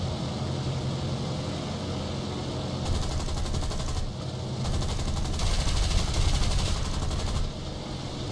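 Machine-gun bursts strike a low-flying British bomber in War Thunder, two rattling volleys over a steady droning engine roar, the second burst longer.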